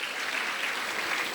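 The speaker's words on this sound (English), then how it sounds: "her parents deserve a big round of applause for giving that kind of valuable insight to her" A seated audience at a panel discussion gives a brief, even burst of applause, a dense wash of clapping with no voices over it.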